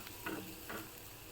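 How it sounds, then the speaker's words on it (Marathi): Fried onion, spices and roasted grated bitter gourd are stirred in a pan, two soft scraping strokes over a faint, steady sizzle, close and quiet with no voices. "पुन्हा एकदा हे मिश्रण एकजीव असं ढवळून घ्यायचं आहे"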